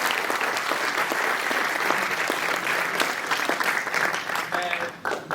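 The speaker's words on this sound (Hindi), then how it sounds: "एक बार फिर से जोरदार तालियों के साथ" Sustained applause from an audience at a student theatre production, dense steady clapping filling the whole stretch and thinning slightly near the end.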